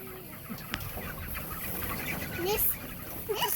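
Pastured chickens cluck and call in scattered bursts on an early-morning farm, moderately near, over steady background noise and some human voices.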